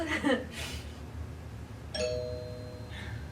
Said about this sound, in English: there's the first doorbell ring.